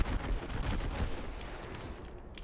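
Incoming rocket fire in Apex Legends lands as a dense, booming barrage of blasts and crackling impacts, loud and continuous with no talk.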